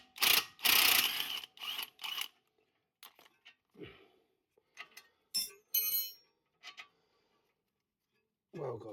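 Spanner ratcheting on a transfer box bolt of a 2019 Range Rover Evoque: sharp bursts of metallic clicking in short irregular runs, separated by quiet gaps, close up, with a brief voice near the end.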